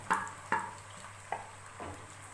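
Onions go into oil for a chicken karahi, heard as a faint background sizzle broken by several distinct clanks and scrapes of a spoon against the pan. It is fairly quiet and has no talking.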